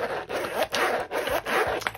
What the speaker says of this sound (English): And the zipper.